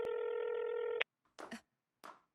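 Telephone in a Hindi action film, a steady electronic tone held for about a second that cuts off abruptly, followed by a few short bursts of sound after it.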